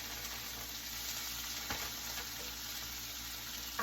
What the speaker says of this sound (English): We're gonna throw in some of this hash brown Southwestern style hash brown mix.